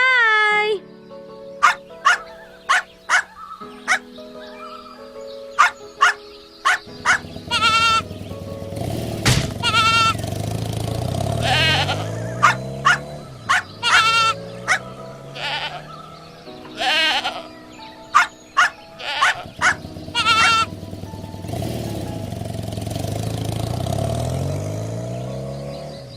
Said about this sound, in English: The baby goat is hurt.